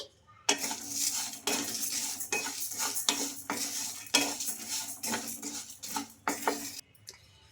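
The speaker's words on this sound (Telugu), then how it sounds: "కొంచెం కలర్ మారిన తర్వాత అయితే ఇందులోకి ఒక మూడు ఎండుమిర్చి కూడా వేసేసుకోవాలండి" Peanuts, rice and dried red chillies dry roasted in a pan, the spoon scraping and stirring in repeated strokes with a light rustle of grains and metallic clinks, close and fairly loud, no talk.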